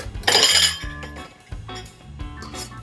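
A fork whisks honey teriyaki marinade in a bowl, giving bright clinks and taps against the dish in uneven bursts, close and fairly loud, with no talking.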